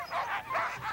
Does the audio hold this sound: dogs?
yes